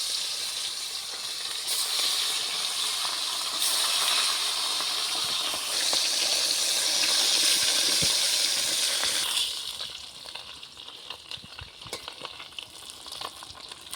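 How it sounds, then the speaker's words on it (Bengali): Fish frying in hot mustard oil gives a loud, steady sizzling hiss up close, which surges as the pieces settle in and then eases to a quieter crackle with small pops and clinks. "তেল তো গরম হয়ে গেছে এখন দিয়ে দিচ্ছি মাছ"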